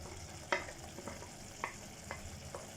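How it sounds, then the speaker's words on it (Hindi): About half a kilogram of chicken keema frying in a pan for matar keema, with a continuous sizzle under scattered scraping and clinking stirs of a spoon, close and with no talking. "अब इसमें हम अपना चिकन का कीमा ऐड कर देंगे।"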